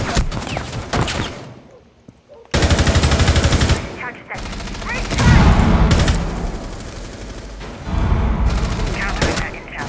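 Rapid automatic gunfire rattles in the video game Rainbow Six Siege in several loud close bursts, with a brief quiet gap early on and voices talking in between.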